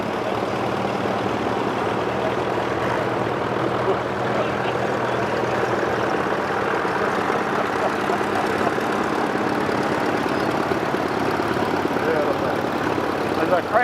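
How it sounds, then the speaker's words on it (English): A big vintage 1920s road grader's engine, seen at the Wheels at Wanaka show, idles with a steady low rumble that continues throughout, with outdoor crowd murmur around it. "And here we have a lovely big grader."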